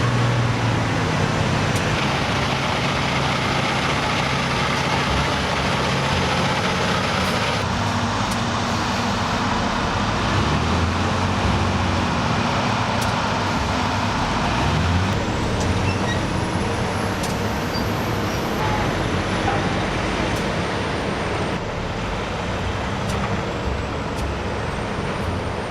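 Heavy logging truck engines roar and strain continuously at a muddy North Carolina swamp logging deck as the trucks fight for traction, a dense steady rumble with no pauses or speech.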